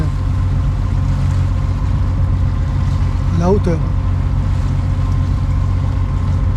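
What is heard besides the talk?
sailboat engine running at five knots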